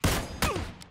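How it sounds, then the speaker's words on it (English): Gunfire in PLAYERUNKNOWN'S BATTLEGROUNDS (PUBG), fired inside a building: a close, loud burst of two sharp shots about half a second apart, with a fainter third crack after them. "Shot through a wall."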